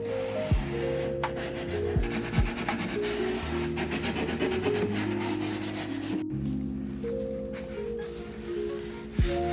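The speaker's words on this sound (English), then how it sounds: "Same sanding for all the doors." Steady abrasive rubbing of sanding on kitchen cabinet doors, continuous with brief pauses and a low mechanical hum underneath, no talking.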